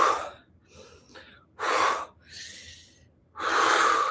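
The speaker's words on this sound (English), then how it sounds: "Three more breaths." Deep breathing exercise, with three strong, close breaths, each a loud rushing inhale or exhale separated by quieter pauses.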